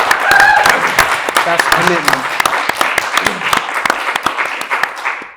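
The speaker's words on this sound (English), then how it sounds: "Can I have a round of applause, please, for the effort." Scattered, sharp hand claps from a Romford Film Festival 2023 audience applauding Danny for the effort behind the musicabre The Pit and the Pendulum, running under close talking that continues throughout.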